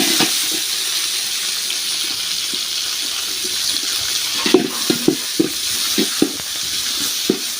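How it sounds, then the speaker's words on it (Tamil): Tomatoes sauté in a pan as a soft continuous sizzle runs underneath, broken by a series of sharp stirring knocks and scrapes in the second half. "தக்காளி ஒரு வதங்கட்டும்"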